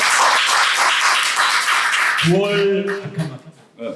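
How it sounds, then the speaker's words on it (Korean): Audience at a political academy lecture giving a loud burst of applause for about two seconds, then a speaker's voice over a sound system takes over. "여러분의 힘찬 박수로 시작하도록 하겠습니다"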